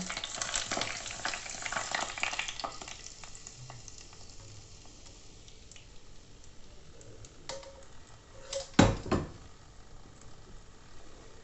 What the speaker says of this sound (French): maintenant, je vais à la passoire pour ne récupérer que l'huile